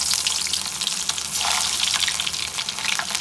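Onion sizzles steadily in hot oil for a kadhi tempering in Punjabi home cooking, a dense continuous crackle and hiss with faint stirring, close and moderately loud with no talking.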